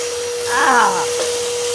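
A Gaocheng professional wet and dry vacuum cleaner whirs steadily with a constant motor hum, a brief rising swell of louder airflow in the middle, with background noise throughout.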